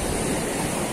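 Ocean waves breaking at a rocky fishing spot, a dense continuous roar of surf close by with no voices.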